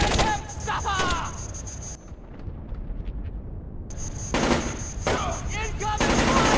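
Automatic gunfire in the video game Splinter Cell Chaos Theory, loud bursts at the start and again toward the end around a brief quieter gap, mixed with shouting voices.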